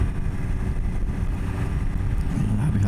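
A Triumph Daytona 765 Moto2 Limited Edition motorcycle cruising at about 4000 rpm on half throttle gives a steady, dense low engine drone mixed with rushing wind, with no break throughout.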